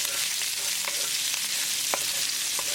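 Ginger and garlic fry in a tablespoon of olive oil for a cashew chicken stir fry, producing a continuous close hiss with occasional scraping taps from stirring, no talking.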